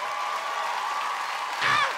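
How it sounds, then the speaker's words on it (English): A comedy club audience gives steady applause for a man called up from the crowd, a continuous wash of clapping with a brief whoop or cheer rising near the end. "Y'all give him a big round of applause."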